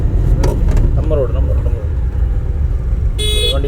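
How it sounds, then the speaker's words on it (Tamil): Vehicle horn honking in traffic during a driving lesson, a short, bright toot near the end over steady road and engine noise, with someone talking before it. "வண்டிக்கு ஹார்ன் அடிக்கிறார் பார்த்தீங்களா?"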